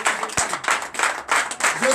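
A church congregation at a Sunday worship service applauds and cheers in acclaim of Jesus: loud, dense bursts of clapping rise and fall in waves across the whole stretch, mixed with raised voices.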